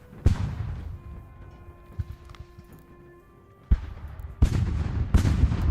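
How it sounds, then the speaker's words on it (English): Cannon fire in the strategy video game Ultimate General: American Revolution during an assault around a fort. Scattered booms come at uneven intervals, several distant and muffled, others sharper and louder near the end. "Oh, I can hear a cannon?"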